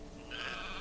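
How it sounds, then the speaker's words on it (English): A single sheep bleats briefly in Farewell North, a short wavering cry close by and moderately loud over faint background, with no talking. "Trying to shepherd sheep downhill."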